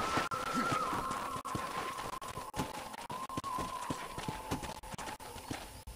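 A horse gallops in Red Dead Redemption, steady rhythmic clip-clop hoofbeats up close on a dirt trail, with a faint tonal hum running underneath.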